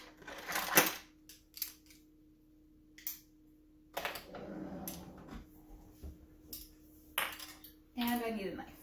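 Metal measuring spoons are grabbed in a kitchen, making scattered clinks and rattles in short separate bursts with quiet gaps between them, and one longer jangle near the end.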